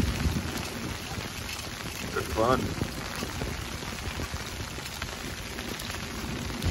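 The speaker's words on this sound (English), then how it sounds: "Might have an inch of sleet in the boat by the time this boat goes through." Sleet pelts down steadily on an open fishing boat during a walleye and smallmouth bass trip in remote northern Minnesota, a dense continuous hiss of icy patter, with a brief spoken remark partway through.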